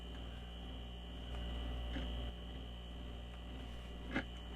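A repaired refrigerator runs quietly after a bracket was moved, giving a low steady electrical hum with a faint brief rise partway through and a small click near the end, no voices.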